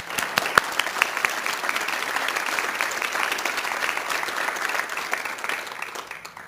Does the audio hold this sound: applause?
yes